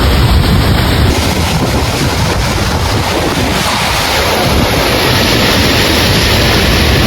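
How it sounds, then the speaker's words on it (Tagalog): Strong, gusting typhoon wind roars loudly and continuously, buffeting the microphone with heavy rumbling noise throughout, with no voices. "Ang lakas po ng hangin."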